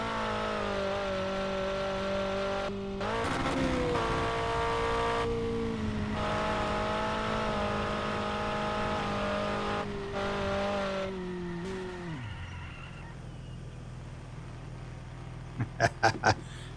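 Race cars in a Buthanbang racing video game, engines droning and revving close up with gear-shift pitch drops, then the engine note falls away into quiet before a few sharp clicks at the end.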